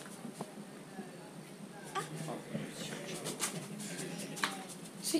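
Pigeons coo softly inside a church bell tower, low murmuring calls mixed with faint rustling and occasional knocks, with people talking nearby.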